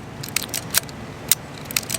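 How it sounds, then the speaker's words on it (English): A Yashica Electro 35 MC film camera is wound on, producing a series of dry, sharp ratcheting clicks and snaps at irregular intervals, close and fairly quiet, with no voices. "wind the film and fire the shutter until the film is pulled all the way across"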